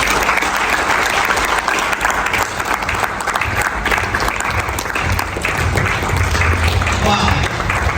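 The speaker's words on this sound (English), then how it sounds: "Let's give you a round of applause" A large crowd at a NeoLife business success seminar bursts into loud, sustained applause that fills the room without a break, with some voices mixed into the clapping.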